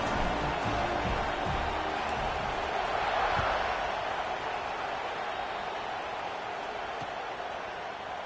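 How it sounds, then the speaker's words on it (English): A large crowd at a college football stadium makes a steady, broad roar that fades slowly, heard from a distance while an announcer talks over it. "this crowd is buzzing after that last score"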